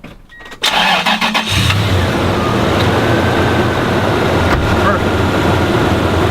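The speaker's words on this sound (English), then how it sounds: "so we're going to start the engine" A car engine cranks briefly with a whirring starter, catches, and settles into a loud, steady idle that runs on close by.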